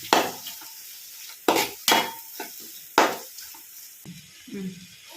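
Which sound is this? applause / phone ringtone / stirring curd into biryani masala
stirring curd into biryani masala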